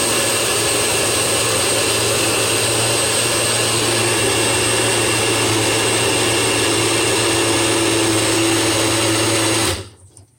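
A blender whirs steadily and loudly as it blends a healthy smoothie, a constant motor drone running for nearly ten seconds before cutting off abruptly. No one speaks.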